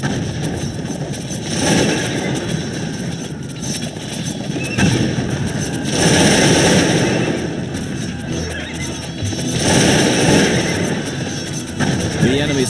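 Battle din from the video game Cossacks 2, Poland against Russia: volleys of gunfire and artillery mixed with horses neighing and hooves clattering, loud and continuous in swelling waves.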